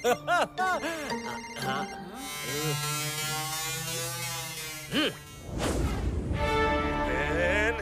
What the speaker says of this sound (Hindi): ये तो मेरे पार्टनर KN का फोन है।